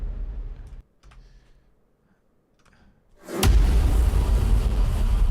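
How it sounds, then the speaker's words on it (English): A heavy, boomy riser impact sample hits after a near-silent stretch and swells into a dense, sustained low roar that fills the rest of the clip. "this is just another riser impact"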